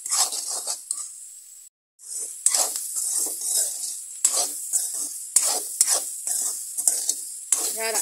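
Food for smoked pork with eggplant being stirred and mixed in a kadai, bursts of sizzling and scraping strokes in an uneven rhythm after a brief pause, close up with no voices.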